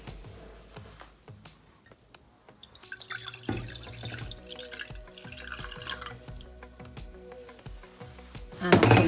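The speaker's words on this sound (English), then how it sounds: "I'll take my liquid and I'll put the liquid back into my pot" Dandelion flower liquid pours back into a cooking pot, a steady wet splashing and dripping with faint clinks of the pot, growing louder and busier toward the end.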